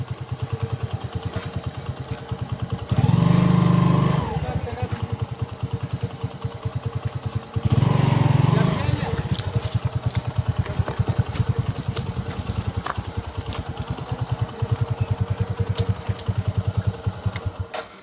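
A nearby motorcycle engine idles with a rapid, rhythmic putter, rising twice into short louder revs before settling back to a steady idle.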